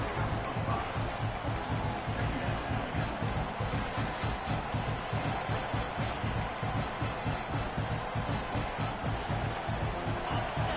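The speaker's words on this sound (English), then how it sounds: "This crowd bringing the energy and noise early." A packed football stadium crowd at a Clemson versus Florida game roars continuously, a dense, loud wall of cheering with a pulsing rhythm, and a commentator's voice sits faintly underneath.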